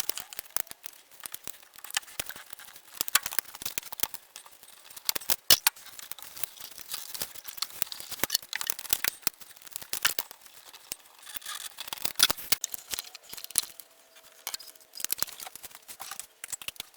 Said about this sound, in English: I should be able to take off the hose clamp with this type of pliers